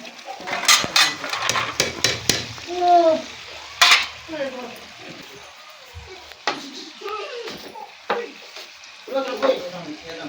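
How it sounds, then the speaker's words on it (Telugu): Tomato pieces sizzle in a frying pan for chicken curry while a spoon stirs and scrapes, with metallic clinks against the pan, uneven bursts of frying and a few faint voice sounds in between. "టమాటా వక్కలు వేసుకుంటున్నా ఇప్పుడు."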